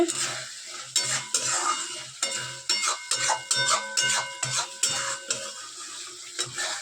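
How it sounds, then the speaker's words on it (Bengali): Spice paste sautéing in a pan, with a steady sizzle broken by frequent scraping and clinking strokes of a spatula against the metal, close and moderately loud, with no voices. "মশলা কষা হচ্ছে"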